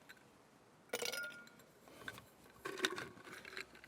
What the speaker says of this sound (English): Bit of ice in the glass.